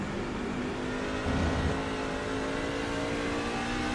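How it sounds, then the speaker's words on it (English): Loud, steady roar of a race truck engine at the Milwaukee Mile, with a brief surge in the middle as it shifts through gears, no voices. "Hear him shifting as well."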